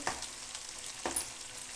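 Eggplant with tamarind juice and jaggery fries in oil in a pan: a steady close sizzle, broken by two sharp scraping stirs as the pieces are turned.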